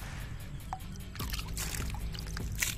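Water poured from a container around the base of a newly planted Madre de Agua plant, a soft trickle and splash that thickens midway, close by with faint background noise.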